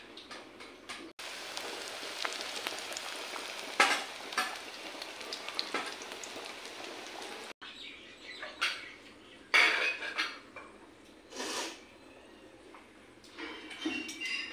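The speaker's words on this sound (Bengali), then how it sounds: "এখন এটা বড়া ভাজা হবে।" Lentil fritters (bora) mixed with green chilli, onion, nigella and turmeric frying in oil, a soft continuous crackle with intermittent clinks and scrapes of a utensil against the pan.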